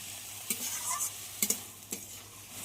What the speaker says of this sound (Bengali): মশলা দিয়ে 1-2 মিনিট মতো একটু কষিয়ে নিতে হবে।